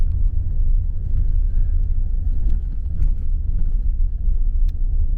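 An RV rolling along a muddy, ungraveled stretch of the Alcan Highway in Canada gives a steady, loud low rumble of engine and tires, with faint rattles and clicks on top and no talking.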